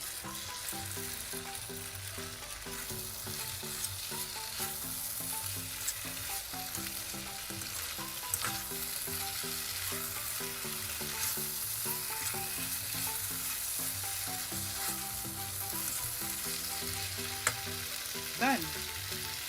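Charlie Chan pasta is stir-fried in a pan, giving a steady, close sizzle with scraping stirs and faint clinks of the utensil running throughout, with no talking.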